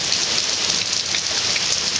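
Steady rain falling during Hurricane Ike in Oklahoma, a dense, even hiss of drops on surfaces with no let-up, close and moderately loud, with no voices over it.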